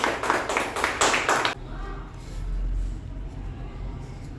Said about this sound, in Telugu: క్లాప్స్ కొట్టండి అందరూని గట్టిగా